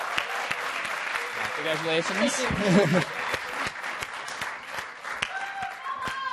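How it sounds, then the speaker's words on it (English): An audience applauds through most of the moment, with steady clapping at an event as a speaker's voice and other voices talk over the ovation. "let's have a round of applause"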